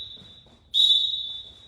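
A whistle at wrestling practice gives one sharp, loud blast that starts abruptly and trails off after about a second, over a quiet background.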